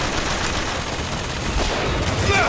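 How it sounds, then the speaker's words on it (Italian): Machine-gun turret firing in Bioshock Infinite, a dense rattling burst of rapid shots mixed with game noise, loud and continuous across the moment. "Torretta mitragliatrice, eccola! Continuate a sparare!"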